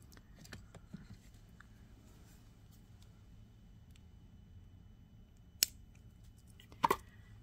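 Two quick, crisp snips from cutting extra wire or ribbon off a Celtic knot ribbon-and-bead bookmark, well apart and isolated against a quiet room.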